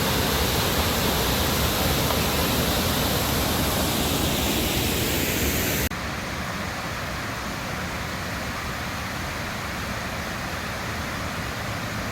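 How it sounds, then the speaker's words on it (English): Cataract Falls cascading along Mill Creek, a dense, continuous rush of falling water heard close and loud, dropping slightly in level partway through but never pausing. "get a pretty good view of the waterfalls as the water cascades down"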